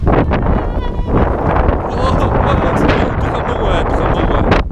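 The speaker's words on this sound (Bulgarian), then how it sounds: "Духа много е." Strong wind buffets the microphone outdoors in loud, continuous gusty rumbling that barely eases from start to finish.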